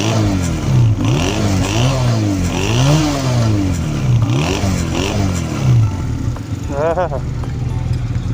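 A Honda CD200 Roadmaster motorcycle engine revs repeatedly up and down in close, loud blips over a steady idle, with a brief voice near the end.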